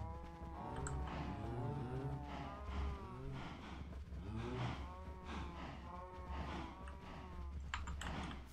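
Several cows moo on a farm in a video game, overlapping low calls rising and falling in a steady chorus over a continuous hum, close and fairly loud with no talk.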